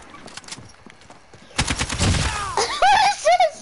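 Automatic AK rifle fire in a PS4 shooter game, a loud rapid burst in the middle followed by sharper whooshing game effects, with faint quieter activity before it.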